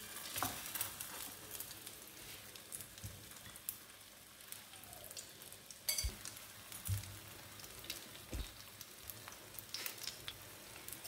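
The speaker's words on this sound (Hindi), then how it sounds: "शामी उठाएंगे, अंडे में डिप करेंगे और ये गया फ्राई पैन में। शैलो फ्राई करेंगे इसको।" Egg-dipped chicken shami kebabs shallow frying in a pan with a little oil, a steady low sizzle with scattered crackles and occasional stirring clinks, no talking.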